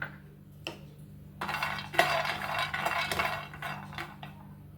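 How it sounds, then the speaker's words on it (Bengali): A handful of peanuts is dry-roasted in a pan for rice sweets, with a spatula stirring them in close, rattling scrapes that grow busier after a couple of quieter knocks. "এবার এক মুঠো বাদাম নিয়েছি বাদামগুলোও রোস্ট করে নেব"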